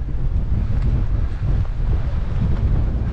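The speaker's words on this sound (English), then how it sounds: "It's a new definition of windy today." Strong wind buffets the microphone on the Bridport coast in the UK, a loud, continuous low roar that rushes and gusts steadily throughout with no letup.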